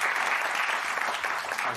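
A short burst of dense, even studio audience applause at a French morning radio show, loud and close throughout with a faint voice beneath.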